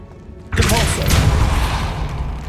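A Depulsor spell strikes in Hogwarts Legacy catacombs: after a quiet moment, a sudden loud impact bursts in, followed by a rumbling, crashing tail that lingers and slowly fades.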